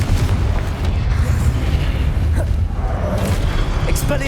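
Confringo fire-blast spell cast in the Hogwarts Legacy video game during a fight with goblins: dense booming blasts over a steady rumble of combat noise, loud and continuous throughout.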